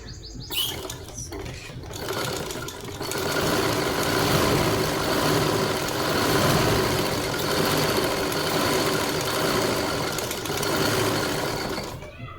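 A household blouse sewing machine stitching embroidery runs in a continuous fast mechanical whir with rhythmic needle clatter, close and steady after a brief start, with no talk over it.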